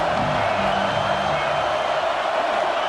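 Stadium crowd in EA Sports College Football 26 roaring during a third-down play, a dense steady wash of cheering and whoops with a low horn-like tone early on, loud and continuous.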